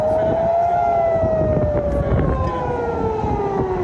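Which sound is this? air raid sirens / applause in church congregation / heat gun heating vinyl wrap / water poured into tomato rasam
air raid sirens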